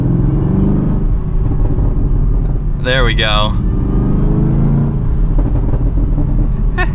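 A 2023 Chevrolet Camaro ZL1's supercharged V8 exhaust rumbles steadily and loud, with one sharp rising-and-falling rev partway through, while someone speaks briefly over it.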